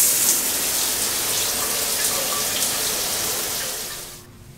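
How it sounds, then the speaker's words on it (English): A hotel bathroom shower runs as a steady, close broadband hiss of falling water that holds evenly for about four seconds, then fades and cuts off near the end. No one speaks. "We're gonna take a shower and just in time for lunch."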